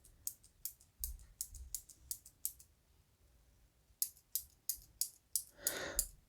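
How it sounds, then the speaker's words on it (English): Two mechanical pencils, a Skilcraft BoldPoint 1.1mm and a Bio-Write 1.3mm, are clicked in turn close up: two runs of quick, crisp, regular clicks separated by a short quiet gap, the last few blurring into a brief rattle. "Let's compare the clicking sound of the two"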